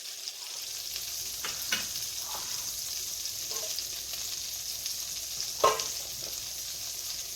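Oil and shrimp marsala sauce with mushrooms fry in a pan with a steady, even sizzle, broken by a few faint clinks and one louder knock.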